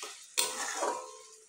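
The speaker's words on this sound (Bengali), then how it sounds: "এদিকে আমি মাছের ঝাল করছি, তো সেই জন্য মশলাটা কষে নিচ্ছি।" Spice paste for a fish curry is stir-fried in a pan at home, with a sharp scrape and clatter of a utensil followed by a steady close sizzle that eases off, and no talking.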